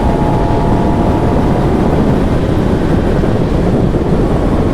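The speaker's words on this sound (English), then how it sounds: "thanks for watching my boring little ride on my new ZX10R" A Kawasaki ZX10R sport motorcycle on the move, its steady engine drone blended with heavy rushing wind across the microphone, loud and unbroken throughout.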